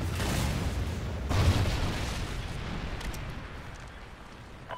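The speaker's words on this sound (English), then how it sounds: "Friendly Trinity rocket inbound." A Trinity rocket strike in Call of Duty: Ghosts on the Stonehaven map: a loud, near rumbling blast surges at once and peaks again after about a second, then rolls off into a long, fading roar with no voices.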